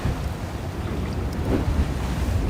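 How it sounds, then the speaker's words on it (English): Water on the Williamsburg, Brooklyn waterfront in New York City slams against the shore in a continuous loud, rushing wash, heavily mixed with gusty wind buffeting the microphone. "I guess it's the water's really loud. Wow. It's just slamming against here."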